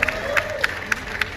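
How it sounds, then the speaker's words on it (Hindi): Fitness event crowd claps for contestants in short, soft bursts of applause, fairly distant and thin, with a few sharper claps standing out. "और गर्ल पावर के लिए तालियां होनी चाहिए फिर से"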